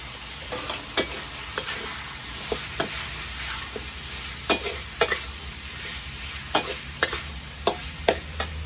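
Chicken red curry with bamboo shoots is stir-fried in a pan, with a steady background sizzle broken by regular sharp scrapes and clacks of a spatula against the pan, close and fairly quiet, no voices.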